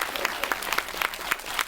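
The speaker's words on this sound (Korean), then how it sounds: "두 분께 다시 한번 큰 박수 보내주시고요" An indoor audience at a Korean film talk event claps steadily for a brief moment, the sharp hand claps dense and fairly close with no voices.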